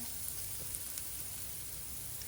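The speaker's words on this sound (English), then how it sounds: "you can see here the oil's frying them." A steady, crackling sizzle of chickpeas frying in hot oil in a pan, with small pops scattered through the hiss.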